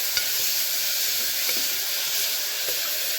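Ingredients for a mudavattukal soup stirred in a hot pan, a constant bright hiss and sizzle with faint scraping strokes underneath, no one speaking.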